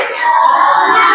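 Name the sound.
class doing a rhythmic spirit clap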